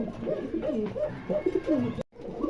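A pair of black nun pigeons coo loudly and near, repeated rolling phrases cut off briefly by a short silence before resuming.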